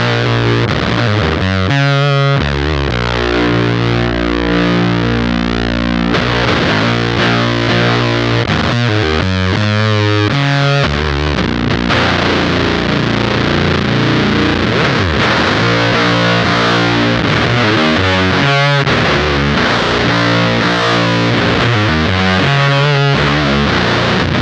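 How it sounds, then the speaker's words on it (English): Fuzz Imp octave fuzz pedal driving an electric guitar, heavily distorted and saturated, with sustained chords and riffs playing loud and continuous for the whole stretch, no voices. "So as we turn it up, we're gonna get a fuzzier sound."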